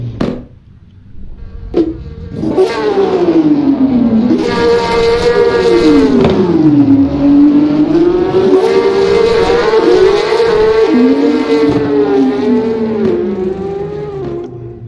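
Porsche Cup race cars at Road America head off for a practice start, engines roaring loud and close, revving hard, shifting up through gears in rising and falling sweeps that blend into a sustained, layered howl.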